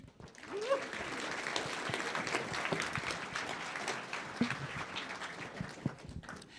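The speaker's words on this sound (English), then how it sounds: "So please give a round of applause first to Wacy Zapata Rabbit." An audience at a sports hall of fame ceremony gives steady, moderately loud applause throughout, with a few voices audible within the crowd noise.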